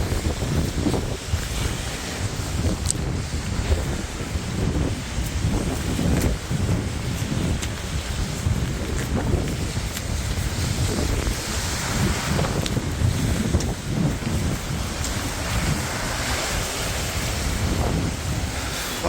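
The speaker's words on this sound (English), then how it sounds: "Wow, I just got sprayed with some water from the waves." Sea waves surge and break against a beach dike at Eforie Sud, a loud, constant churn of surf mixed with heavy wind buffeting the microphone close by.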